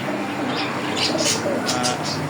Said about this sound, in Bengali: খুব সুন্দর সুন্দর কবুতর আছে